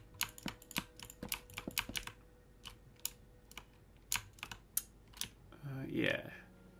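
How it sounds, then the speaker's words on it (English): Rapid, uneven clicking of a computer keyboard and mouse during a Minecraft building session, close and dry, bursts of keystrokes with short pauses, ending in a brief murmur of voice. "Awkward clicking. Awkward clicking."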